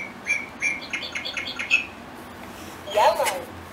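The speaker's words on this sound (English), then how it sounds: "I'm a little bird." Electronic bird chirps from a VTech Roly Poly Learning Tree baby toy, a quick series of bright tweets followed by a louder chirpy burst, with a voice and talk around it.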